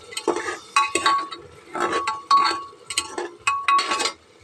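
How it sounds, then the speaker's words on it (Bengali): Ginger garlic paste being stirred in a pan for a simple garlic egg curry, a spoon knocking and clinking against the metal in several quick bursts of scraping, close and fairly loud, with no talking. "আদা রসুনের পেস্টটা দিয়ে দেব, ভালো করে নেড়ে দেব।"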